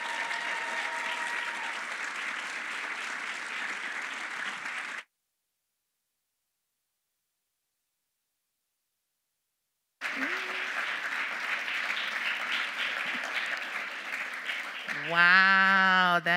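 Audience applause at a Black History Month lecture at Hope College welcomes a speaker, broken by several seconds of total silence before resuming, then a voice begins speaking at the end.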